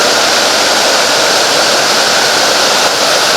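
Rushing water near Lena Lake pours as a loud, dense, unbroken roar of broadband noise, close by and with no voices over it.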